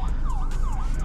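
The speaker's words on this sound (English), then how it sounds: "All right, it looks like we got a ambulance situation." An ambulance siren wails in repeated rising and falling sweeps, loud and steady over low traffic rumble on the road.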